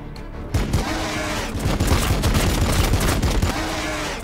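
Gunfire in Warhammer 40k Battlesector: after a brief quiet start, dense bursts of rapid shots and booming impacts crackle continuously and loudly.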